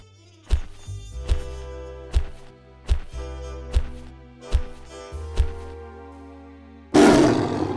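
A lion's roar rings out repeatedly in a playful farm diorama setting, about seven strong, evenly spaced calls, each loud and close, followed by a burst of broadband noise at the end.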